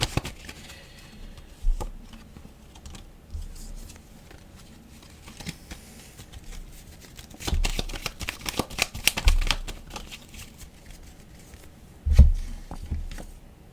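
Tarot cards being shuffled in scattered bursts of soft riffling and slapping, louder clusters near the middle and a sharp burst toward the end, with a quiet room between handlings.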